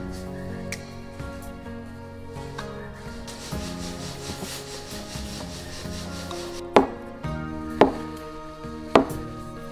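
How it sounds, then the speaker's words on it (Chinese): Dough is worked by hand on a surface for flaky pastry flatbread, making a continuous soft rubbing and pressing with low thuds, followed by three sharper slaps spaced about a second apart, close and without speech. "面醒好了，开始揉面。"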